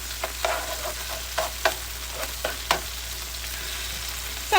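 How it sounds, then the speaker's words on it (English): Garlic sizzling in hot oil in a home kitchen pan, a soft steady fry hiss with a few sharper crackles and stirring clinks throughout, no voices. "I'm gonna go ahead and add my garlic in so I can get that aroma out of there"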